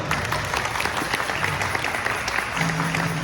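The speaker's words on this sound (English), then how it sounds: "a round of applause for them" Steady, dense applause fills a crowded hall at a 2022 costume parade as a couple representing Algarve are called up; the clapping stays even and close throughout, with a low hum appearing near the end.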